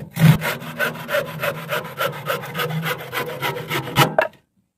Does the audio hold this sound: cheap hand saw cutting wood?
yes